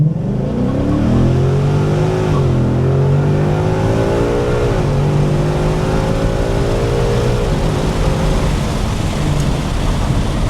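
Tuned truck fitted with a classic muffler, engine droning loud and close as it is held near 1500 rpm, then rising in pitch through a couple of gear pulls as it launches, with a constant low exhaust rumble throughout.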